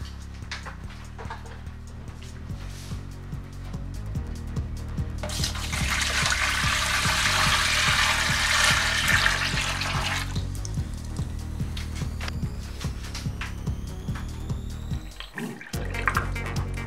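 Sanitizing alcohol drains from the tap of a beer fermenter during homebrew bottling, a steady running and dripping trickle that carries on for many seconds, swells in the middle and then cuts off near the end.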